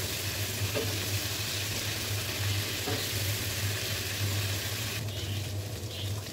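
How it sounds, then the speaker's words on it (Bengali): Prawns frying in hot oil seasoned with turmeric and salt, a steady close sizzle and crackle running throughout with no voices. "চিংড়িগুলো কীভাবে ভাজতেছি তো দেখে দিই। তেলের মধ্যে একটু হলুদ আর লবণ দিয়ে দিয়েছি, তারপর চিংড়িগুলো দিয়ে দিয়েছি।"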